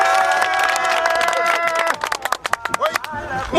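Theatre audience clapping for a Senegalese stage play, a dense burst of applause that breaks into scattered claps while music and voices carry on beneath it.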